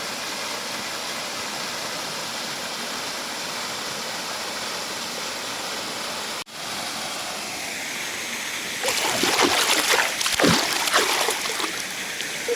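Steady broadband rush of a waterfall at Khlong Kaeo Waterfall National Park in Bo Rai, Trat, Thailand, with louder splashing bursts near the end as water churns closer.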